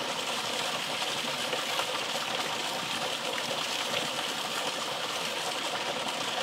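Water from a siphon hose runs steadily into a small homemade ram pump, a continuous close trickling and gushing flow that stays even from start to finish.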